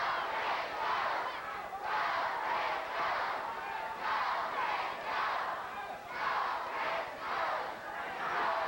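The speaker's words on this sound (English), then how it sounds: "the crowd is chanting again. Now it is go, Chris, go" Wrestling arena crowd at a 1986 WCCW event chants in a steady repeated rhythm, rising and falling in loud rhythmic bursts that fill the hall without pause.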